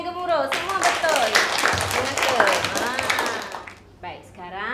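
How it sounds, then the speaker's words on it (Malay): Primary school pupils in a mathematics class clap together, a lively burst of applause mixed with children's voices talking and shouting over it. "Beri tepukan yang gemuruh."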